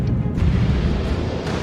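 Plasma cannon fire in the mech combat game Mecha Knights: Nightmare, heard as a dense, continuous low booming rumble that stays loud and steady throughout the battle.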